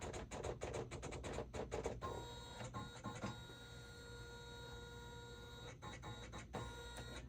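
A Janome 500/550E embroidery machine stitches with a rapid mechanical chatter of needle strikes, then settles into a steadier, softer whir broken by brief bursts of clicking.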